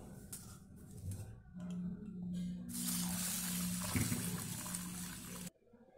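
Foxtail millet and rice washed together in water, with splashing and swishing of grains by hand, a running-water hiss joining midway, then stopping abruptly.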